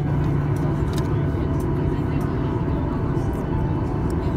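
Cabin of a Norwegian Boeing 737-8JP(WL) rolling slowly to a stop at a gate at London Gatwick South Terminal, a steady loud low engine and airframe rumble filling the space, with a voice talking over it.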